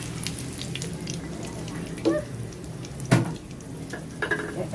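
Garlic sizzles steadily in a hot pan while sambal belacan is being made, a continuous fry hiss with a few utensil clinks and scrapes on top, and a voice speaking faintly.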